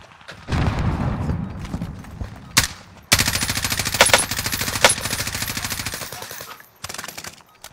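Gunfire in the Call of Duty Warzone Caldera map crackles loudly in bursts: a scattered flurry of shots, a single sharp crack, then a long, fast rattle of automatic fire that fades near the end.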